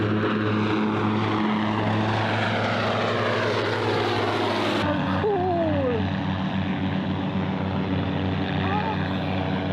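Several propeller aircraft fly past in synchronised formation, a loud, droning engine roar filling the air with a pitch that sweeps down as they pass, while people talk over it.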